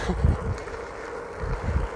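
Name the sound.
wind on microphone while riding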